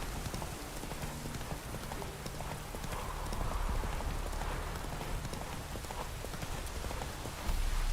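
Roach the horse galloping in The Witcher 3, a steady patter of hooves with a rain-like wash throughout, swelling slightly louder midway and again at the very end.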